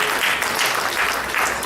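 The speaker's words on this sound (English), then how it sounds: "Give him a round of applause" A round of applause greets Mr. Tinubu at a Nigerian entrepreneurship event, a steady wash of many hands clapping that stays even and dense for a couple of seconds.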